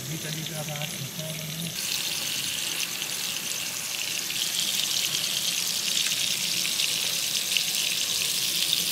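Fish frying in hot oil with garlic in an outdoor cooking setting, a steady broadband sizzle and crackle that builds after a brief lower-pitched start and carries on without a break, close and moderately loud.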